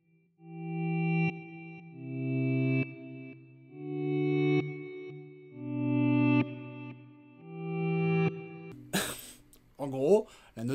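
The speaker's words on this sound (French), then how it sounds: "la note joue à l'envers et ça crée une texture qui n'a rien à voir avec une guitare de base" Electric guitar notes run through a reverse effect swell in one after another, five slow crescendos with no attack, thick and effected, before a short burst of talk near the end.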